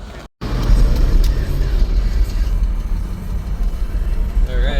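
A 1988 Acura Integra on its first drive with a chunky clutch, its engine and road noise droning steadily inside the cabin at a loud, even level after a brief dropout.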